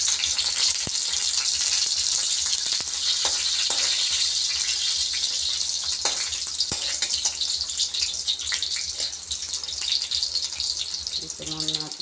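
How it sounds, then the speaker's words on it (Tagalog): Banana sizzling in hot cooking oil in a home kitchen pan, a steady bright hiss and crackle with scattered pops, close and continuous, with a voice talking now and then over it. "tapos iprito natin itong saging"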